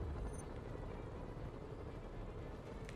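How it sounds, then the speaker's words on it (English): Helicopters in the Spider-Man video game give a steady, dense rotor drone that stays loud and constant throughout, with no talking. "What's with all the helicopters today?"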